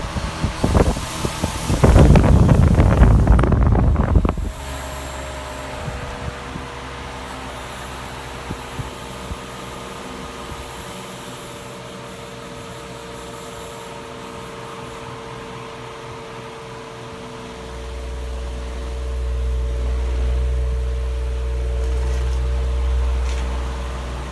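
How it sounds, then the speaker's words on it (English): A vintage Dayton 16-inch table fan runs on high with a steady whir and a rattling grill, preceded by a short burst of loud handling noise. "So here it is on high. Freaking grill on this thing makes too much racket."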